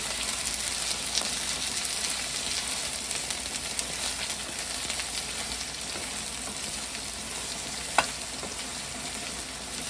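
Okra pieces fry in oil in a pan, giving a loud, steady, close sizzle that runs unbroken throughout, with a faint clink or stir near the end.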